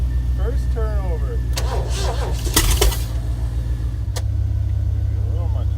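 A Ford 460 V8 fitted with Duraspark ignition, sitting on the ground on an engine stand, fires and runs loud and close with a steady low rumble, then shifts to a rougher idle; voices talk over it partway through.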